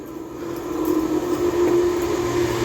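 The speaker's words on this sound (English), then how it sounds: "now coming through is an Avanti West Coast Class 390 Pendolino running from Glasgow Central to London Euston" An Avanti West Coast Class 390 Pendolino electric train passes at speed through Stafford, a loud sustained rush with a steady whining tone that holds for the whole brief moment.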